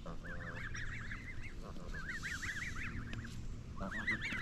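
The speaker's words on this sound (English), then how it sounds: "Those are geese." Geese honk repeatedly near a fishing spot in Fairmont, West Virginia: a loose chorus of nasal calls, fairly close but soft overall, over low outdoor background noise.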